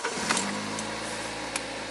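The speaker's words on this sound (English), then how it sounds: "and then I start the engine." A Toyota Corolla engine turns over and settles into a steady idle after a brief cranking burst, close and fairly quiet, with no talking.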